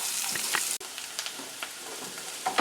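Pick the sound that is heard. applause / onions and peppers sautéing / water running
onions and peppers sautéing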